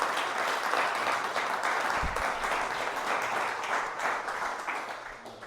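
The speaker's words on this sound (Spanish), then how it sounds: "Dale unas palmas al Señor," A church congregation at a midweek Bible study claps together in a sustained, dense round of applause that holds steady for several seconds before tapering off near the end.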